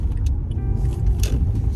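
Car interior while driving, low steady road and engine rumble with faint rattles, heard from inside the cabin, no talking.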